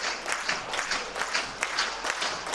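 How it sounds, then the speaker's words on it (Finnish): Spectators clapping after a goal at a Konnat versus Rangers amateur-league match: a dense, steady patter of many hands from a crowd, fairly loud and continuous throughout. "nyt yleisö laittaa kättä yhteen"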